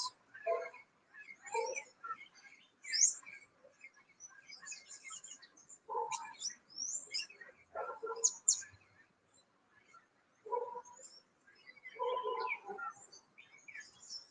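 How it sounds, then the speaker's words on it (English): Parrots calling in a garden, bursts of shrill squawks and chirps at a moderate distance, coming in irregular clusters separated by short quiet gaps. "Mucho loros, lots of parrots"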